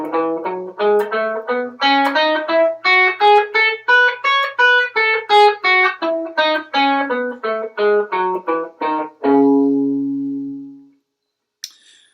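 A minor scale arpeggio followed by a minor scale, played note by note on electric guitar with a distorted, effects-laden tone, close and alone, ending on a sustained low note that rings out.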